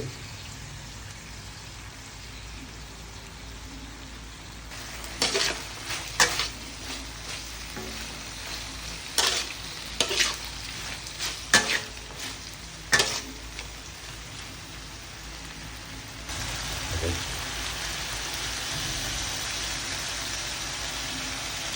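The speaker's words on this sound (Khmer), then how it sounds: "ដល់ហើយយើងបងបន្លែទៅឆា" Chinese kale and pork liver are stir-fried in a hot pan with oyster sauce, sugar and salt, giving a steady sizzle broken by a run of sharp spatula clatters, then a louder, fuller hiss as vegetables go in.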